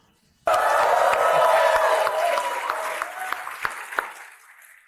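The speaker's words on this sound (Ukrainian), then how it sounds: "Тож давайте почуємо ваші оплески" Sudden burst of loud applause from a large audience, with scattered cheers, sustained for several seconds before gradually tapering off.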